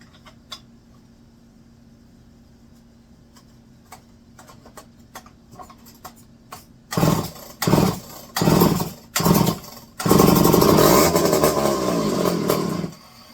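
A McCulloch 5-10E electric-start outboard engine starts up. Faint ticking comes first, then several loud cranking bursts, and finally the engine catches and runs roughly, revving close by.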